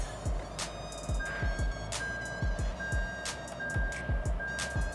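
Repeated reversing beeps from a 2024 Toyota Corolla Cross shifted into reverse, a steady tone pulsing at an even rhythm over a low idling engine, with other short chimes mixed in.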